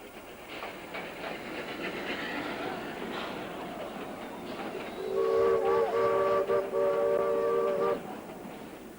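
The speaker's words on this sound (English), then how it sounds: "We followed the train's progress as it lurched and swayed steadily on its way." Rumbling train rolling along the track with rattling wagons, then a loud sustained horn blast for a few seconds over the clatter.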